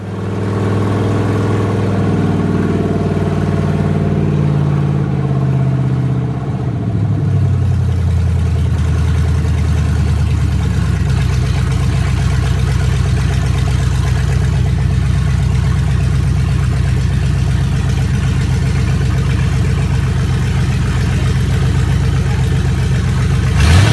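Race car engine running at a steady 4,000 RPM during break-in after a first start, a loud, continuous mid-pitched drone that settles after early pitch shifts and holds evenly to the end.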